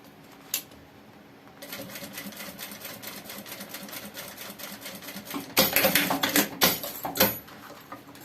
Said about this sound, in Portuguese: A gente vai rebater essa costura.